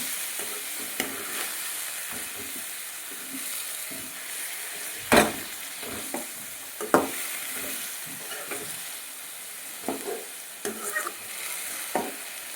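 Brinjal is stirred and fried in oil, a soft continuous sizzle broken by scattered scrapes and clacks of the spoon against the pan, with one sharper knock midway.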